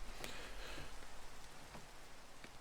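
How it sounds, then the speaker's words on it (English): Rain falling in the Minecraft video game, a steady soft hiss of drops that stays even throughout, with no voices. "It's raining. Why is it always horrible weather?"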